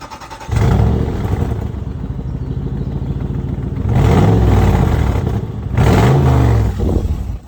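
A 2004 Toyota Land Cruiser 100 Series engine with brand new catalytic converters revs up twice from a steady idle, each throttle blip swelling loud and close before settling back, with no talk.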